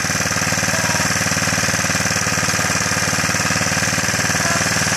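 A small mini bike engine runs steadily up close, a loud, rapid, buzzing chug that holds an even pace without revving.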